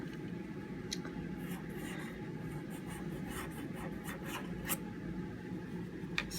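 A pen moves steadily across paper forming swirly, loopy lettering, a soft continuous scratching with a few sharper strokes, close and quiet against a low background hum.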